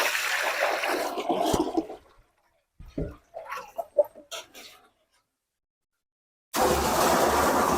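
Liquid pours steadily while panchagavya is being prepared outdoors, a broadband gushing that runs for about two seconds, breaks off, and then returns loud and continuous near the end, with scattered small splashes and knocks in between.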